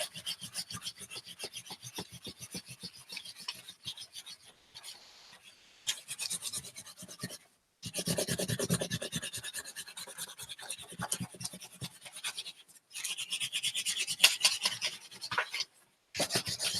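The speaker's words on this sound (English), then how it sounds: "I burnish in both directions." A wooden spoon rubs paper over an inked reduction print block in steady back-and-forth strokes, a close, dry, raspy scraping with short pauses between passes.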